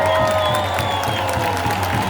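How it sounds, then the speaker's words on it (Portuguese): A large outdoor political rally crowd in Belo Horizonte claps and cheers, a loud continuous roar with scattered whoops, ringing tones overhead, and a heavy low hum underneath. "Uma salva de palmas."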